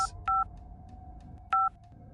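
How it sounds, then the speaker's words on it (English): A telephone dials the police, giving two distinct short keypad tones about a second apart, crisp and close over a quiet low hum. "I ran back and got my phone, then left the house and called the police."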